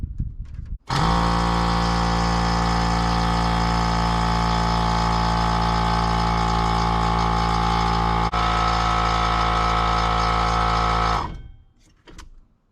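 A 12-volt air compressor mounted on a Toyota Tacoma starts up with a sudden, steady, loud mechanical drone and hum, runs continuously for about ten seconds, then shuts off and winds down quickly, with no talking over it.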